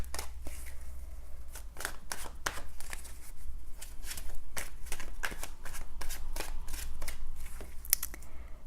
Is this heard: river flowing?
no